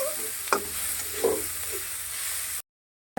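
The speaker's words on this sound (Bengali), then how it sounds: "এখন এটা একটু ভাজা দিতে হবে, বুঝলো? তেল দিলাম" Bottle gourd frying in a little oil sizzles softly and steadily, with a few clacks of a spatula stirring the pan before the sound abruptly cuts off.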